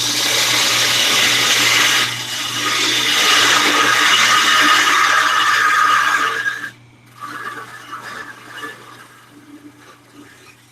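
A wood lathe spins steadily while a bowl tenon is turned, producing a loud continuous whir with cutting noise that cuts out briefly, then resumes at a lower, more uneven level.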